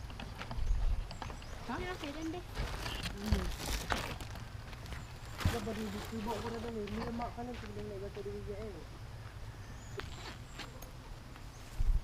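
Horse hooves clip-clop on the ground just after the animal is unloaded from transport, in short irregular steps heard under people talking and background noise.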